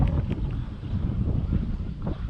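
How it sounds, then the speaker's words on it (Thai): Strong wind buffets the microphone outdoors near water, a steady low roar that holds for the whole stretch with no talking. "ลม ลมแรง ตีส่วนลมด้วย"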